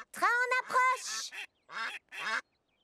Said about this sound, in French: Oh non, des canards sur les rails.